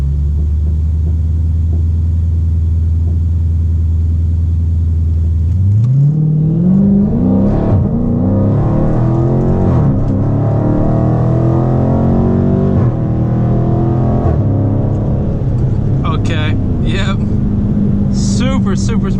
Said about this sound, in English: I'll build up the RPMs a little bit.